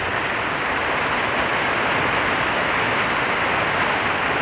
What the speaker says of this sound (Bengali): এখন বৃষ্টির প্রবণতাটা আস্তে আস্তে বেড়ে যাচ্ছে